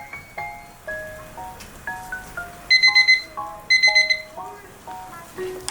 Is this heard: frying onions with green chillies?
no